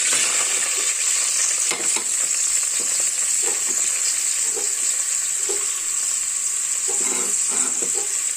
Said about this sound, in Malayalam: ഇനി നമുക്ക് എണ്ണയ്ക്കകത്തോട്ട് ബാലൻസ് ഈ സവാള പോയിട്ട് വഴറ്റിയെടുക്കാം